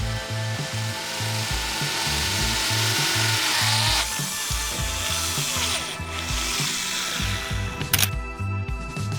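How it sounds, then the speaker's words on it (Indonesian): A power drill with a diamond hole saw grinds steadily through hard ceramic tile with a rough, whining scrape, pausing briefly near the end before resuming, close by. "Biarkan mata bor itu bekerja melubangi secara bertahap supaya hasil lebih rapi"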